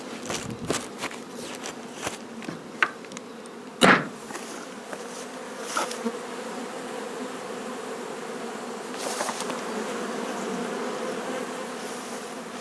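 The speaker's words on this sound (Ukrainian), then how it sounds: "Тут селекціоновані бджоли, зокрема тип синевир." A steady, low buzzing of many honey bees close by at the hive, selected Synevyr-type bees, with scattered clicks and knocks over the hum.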